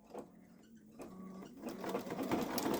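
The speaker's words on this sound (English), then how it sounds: "I'm about to ready to stitch the little swirlies" A Babylock Solaris 3 (Vision) embroidery machine stitches small swirl details for an Easter design, its mechanical whir starting faint and building into a steady, close, rising hum with rapid needle pulses.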